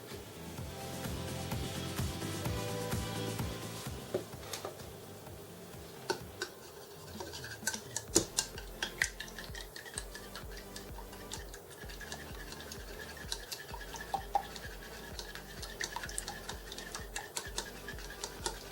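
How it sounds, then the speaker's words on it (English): Eggs with a splash of milk and a pinch of salt are whisked in a bowl for buttermilk pancakes and eggs, giving a fast, steady clicking and scraping rhythm close by, with no talking. "And you'll just want to whisk until it is all mostly the same color."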